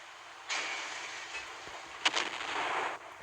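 Naval gunfire in the Naval Creed warship game: a sustained roaring blast starts abruptly, with a sharper report near the middle, then cuts off, moderately loud and without talk.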